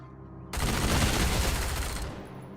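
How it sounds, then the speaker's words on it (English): Sustained automatic machine gun fire in the post-apocalyptic game Wasteland 3, a dense loud burst that starts abruptly after a quiet moment and rolls on for about a second and a half before cutting off into faint ambience. "Go ahead and let loose with the machine gun."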